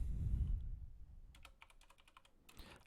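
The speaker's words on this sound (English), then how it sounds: "So what I'm going to do is I'm just going to type Verilog" A command is typed on a computer keyboard, with a quick run of crisp, close keystrokes followed by a short pause and a few more key presses, with no talking.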